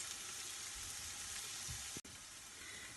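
Garlic frying in oil in a pan gives a steady, soft sizzle and crackle that runs throughout, with a brief low clunk midway and a momentary dropout before the hiss resumes.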